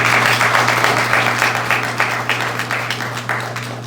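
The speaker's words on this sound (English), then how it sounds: "I think we should give all of our young leaders a round of applause." Sustained applause from a conference audience honoring young leaders at an education diplomacy event, dense and steady over a low hum, slowly tapering toward the end.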